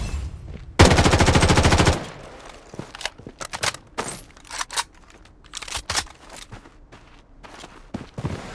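Gunfire from the video game Blood Strike: a loud, sustained automatic burst lasting about a second, followed by scattered sharp single shots and clicks of lighter intensity.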